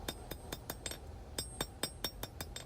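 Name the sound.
hammer forging the finger choil of a knife blade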